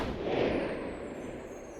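A single rifle shot fired by Jean Chastel in the Gévaudan countryside, one muffled boom with a soft rolling tail that fades quickly.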